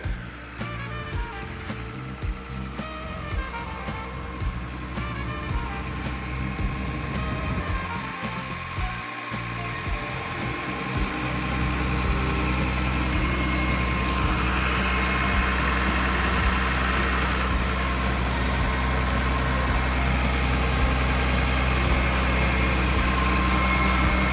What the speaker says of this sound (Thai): เสียงเครื่องของเขาเนี่ยบอกได้เลยว่าแน่นดีมากๆเลยนะครับ